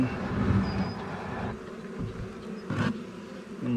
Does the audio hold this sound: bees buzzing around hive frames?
yes